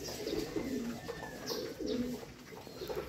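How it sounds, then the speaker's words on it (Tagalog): A pigeon coos softly in a few low, rolling phrases, fairly faint, against a light background hiss. "habang nagpapakain ako, so may kalapati dito."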